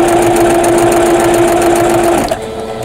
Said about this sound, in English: let's see if I can sew straight